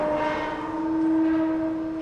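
Train in the video game Spider-Man Miles Morales, a loud sustained horn-like tone with rumbling rail noise, close and prominent, ending in a sharp burst.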